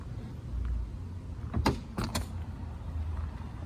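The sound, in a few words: Porsche Boxster S trunk lid soft-closing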